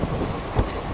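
Jalna–Parbhani Festival Special express train running through Selu railway station without stopping, a steady rumbling rail roar with a brief louder thump of wheels near the middle.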